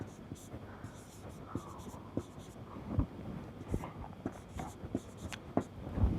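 Pen writing out an equation, a run of quick scratchy strokes and taps with irregular rhythm, close and fairly quiet, with faint breathy speech underneath.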